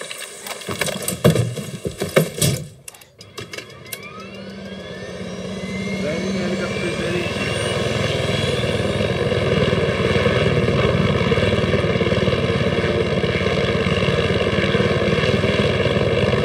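A helicopter in Far Cry 6 spins up and settles into a loud, steady rotor and engine drone that builds over several seconds and holds, after some brief clattering at the start.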